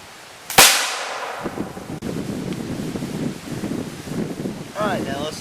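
A shotgun fires homemade soapstone-molded buckshot at an old board propped against a tree, one sharp loud blast followed by wind noise and outdoor rumble.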